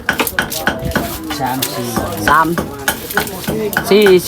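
Blood laab is cooked and stirred in pots, with metal utensils clanking and scraping rhythmically against cookware over a light sizzle, close and lively, with faint voices in the background.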